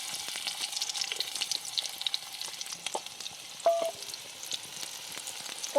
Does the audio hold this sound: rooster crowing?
no